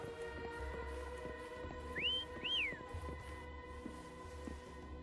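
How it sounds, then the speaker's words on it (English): In a gacha video game, a player character whistles twice to call a mount, two short rising-then-falling whistles over a soft, steady game music bed. "Why don't you call Foam over? Try whistling."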